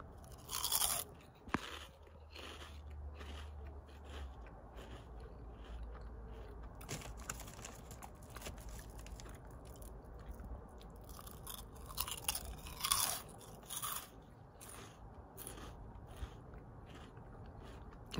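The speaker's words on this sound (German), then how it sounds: "Also knusprig sind die immer noch." Someone munches crunchy Pom-Bär potato snacks close to the microphone, with repeated crisp bites and crackling chewing bursts spread irregularly across a quiet background.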